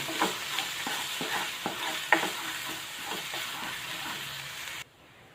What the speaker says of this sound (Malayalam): ഒരു table spoon ginger garlic paste ചേർത്ത് കൊടുക്കുവാണ് എന്നിട്ട് നന്നായിട്ട് ഇളക്കി കൊടുക്കുക